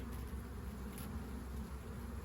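Honeybees drone around an opened hive during a colony-merging inspection, a low, continuous buzzing hum with no voices, steady and fairly faint throughout.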